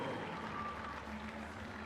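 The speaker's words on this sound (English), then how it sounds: "Matthews gets a nice round of applause as he heads off." A baseball crowd applauds a pitcher leaving the game at Springfield, a distant, steady wash of clapping and cheering that sits low under a broadcast announcer's voice.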